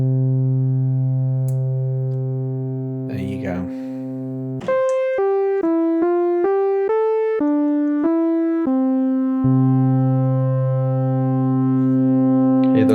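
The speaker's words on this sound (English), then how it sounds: "So these two oscillators are going to be very slightly offset against each other" An Arturia CZ-V synth holds a sustained tone from two slightly detuned oscillators, slowly beating and wavering in loudness, then steps through a short run of bright notes before returning to the beating drone; a person speaks briefly partway through.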